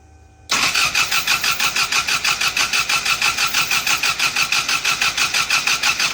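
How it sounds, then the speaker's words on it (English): A car engine, a Mopar, cranking on a weak, dying battery with no spark: the starter kicks in abruptly and grinds in a steady, rapid rhythmic churn for several seconds without catching, loud and close. "You want to try cranking again just for fun?"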